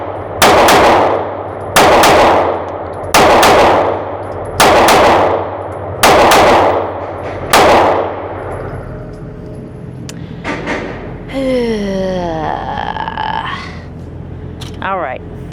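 A Kimber CDS9 pistol fires six loud, evenly spaced shots close by, each ending in a sharp ringing tail, then quieter handling follows along with a brief tonal squeal.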